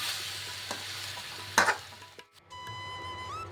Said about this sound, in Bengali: এবার আমি চালটা দিয়ে দিচ্ছি। নাড়াচাড়া করে নিচ্ছি।